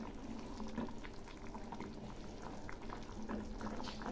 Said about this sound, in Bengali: ঝোল একটু একটু ফুটছে,